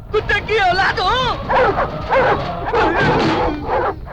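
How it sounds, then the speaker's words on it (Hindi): A dog yelps and barks in rapid, close, loud bursts with whining, pitch-bending cries in a Hindi-dubbed South Indian action film scene, with speech mixed in. "भौंकना बंद कर।"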